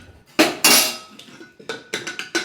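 Steel utensils and pots clatter and clink while dishes are washed in a home kitchen, with a few loud metallic crashes followed by quicker, lighter clinks close by.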